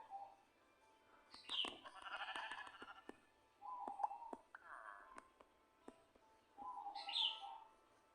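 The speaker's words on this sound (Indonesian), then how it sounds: "Domba." Sheep bleating in the Minecraft survival game, a few short bleats spread across the clip with faint chirpy game sounds between them, heard fairly close with no talk.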